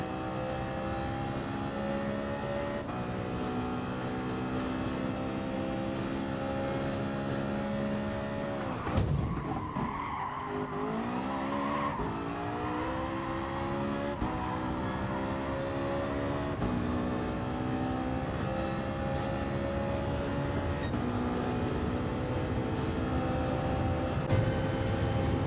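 A Bugatti race car driven in the video game Gran Turismo Sport, its engine holding a steady high drone with a brief burst of tire skidding and revving partway through, loud and continuous, with no talking.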